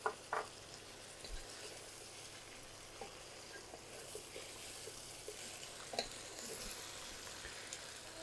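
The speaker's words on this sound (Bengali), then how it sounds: "আদা রসুনের পেস্ট 2 টেবিল চামচ আছে, সেটাকে মানে একসাথে ভেজে নিব সব কিছু।" Ginger garlic paste with turmeric powder fries in a pan for a chicken curry, making a soft, steady sizzle with occasional spatula taps and light scrapes, close but quiet throughout.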